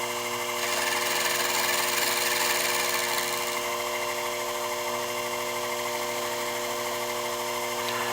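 Milling machine cutting a main mast head, a steady, continuous high-pitched whine and grind of the cutter with a constant mechanical hum, close and unbroken, a brighter, harsher cutting edge in the first few seconds before settling.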